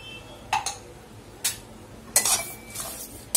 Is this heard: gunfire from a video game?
no